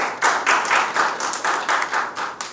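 An audience clapping to approve a resolution at a society meeting, about ten evenly spaced clap bursts at a steady rhythm, fairly close and moderately loud, with no talking.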